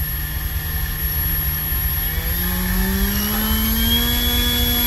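Small engine turning a 3D-printed Hamilton Standard 11x6 propeller at quarter throttle gives a steady, loud whine with a hum that rises in pitch partway through, continuous and close with no talk.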